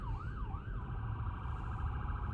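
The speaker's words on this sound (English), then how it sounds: "Well, there's an ambulance." A siren wails in a rising and falling pattern over low traffic rumble, then settles into a steady tone, fairly distant.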